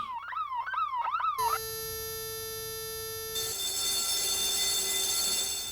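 An audible home security alarm siren wails in rising and falling sweeps, then switches to steady, piercing electronic tones, loud and alone with no voices.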